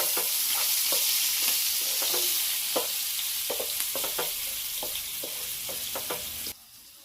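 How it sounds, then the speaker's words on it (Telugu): Onions and green chillies fry in a pan with a constant loud hiss of hot oil, punctuated by regular scraping stirs of a spoon, the sizzle easing slightly near the end. "ఇలా ఆనియన్స్ అనేది గోల్డెన్ కలర్ వచ్చే వరకు ఫ్రై చేసుకోవాలి"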